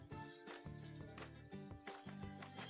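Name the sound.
bread toasting in butter in a pan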